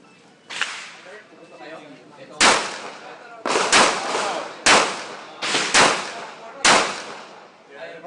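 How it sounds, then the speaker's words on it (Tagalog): Gunshots ring out at an indoor shooting range, with about seven sharp, loud reports spaced unevenly roughly a second apart, each followed by a brief echoing decay. "Firing! Firing!"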